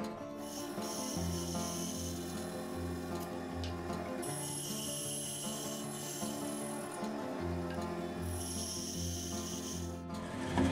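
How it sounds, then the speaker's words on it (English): A bandsaw cuts the shoulders of tenons in a wooden workbench part, a steady motor hum with a rasping blade tone that shifts as the wood feeds through in two or three passes, close and continuous. "we'll set it into the bandsaw and cut the shoulders on the top and the bottom"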